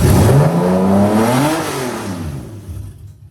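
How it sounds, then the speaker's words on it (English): A Toyota JZ engine in a car revs up and then falls back, close and loud, with its pitch rising to a peak around the middle before easing off to a quieter idle. "We'll give her a little bit of a rev to make sure she is working exactly as we expected."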